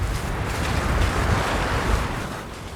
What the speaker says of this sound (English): It's really fucking windy up here.